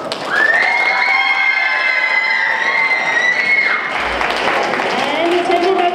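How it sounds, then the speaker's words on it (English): Loud applause and cheering from an audience of families and children at a high school music and dance concert, sustained clapping with shouts and whoops, with a voice carrying over it and the texture shifting partway through. "one big loud round of applause"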